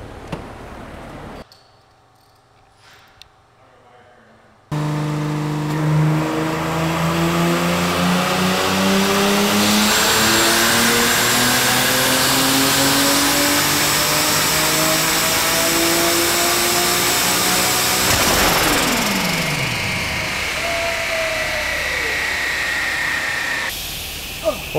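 A turbocharged 2JZ-swapped Mercedes-Benz with a six-speed, making about 422 wheel horsepower at 19 pounds of boost, revs repeatedly toward 7,500 rpm. It sounds loud and close, with a rising, hissing engine note that climbs and falls after a brief quiet start.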